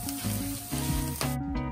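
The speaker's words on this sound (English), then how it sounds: "So Sarah is helping us put the mock meat in the pan, and we're gonna let it sit there and cook for a little bit" Mock meat sizzles in a hot pan for vegan tamales, a steady close frying hiss with brief surges, no talk over it.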